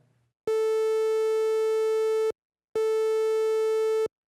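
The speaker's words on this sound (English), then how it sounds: "I'm going to switch it to the triangle sawtooth waveform" Behringer Model D synth oscillator on a triangle-sawtooth waveform, sounding two sustained identical steady tones, each nearly two seconds long and separated by a short gap, bright and buzzy with rich harmonics, alone with no voices.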